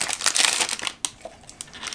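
Close, crisp crinkling of packaging as a box holding small scissors is opened, a burst of rustling followed by a few sharp crackles, no talk.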